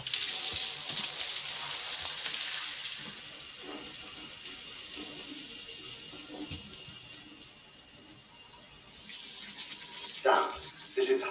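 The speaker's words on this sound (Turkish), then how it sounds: "Adamların isteğiyle duş alıyoruz." A shower runs in the video game Death Stranding, giving a loud hiss of spraying water that fades to a quieter trickle mid-way, then surges back strongly near the end.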